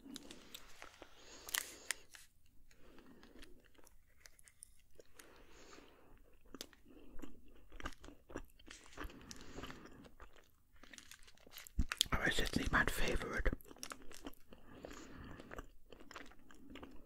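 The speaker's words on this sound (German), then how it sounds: "Ja, weiter knuspern." Crunchy date snack chewed close up, a long run of crisp crunching bites with short pauses, one loud dense burst of crackling partway through, no talking.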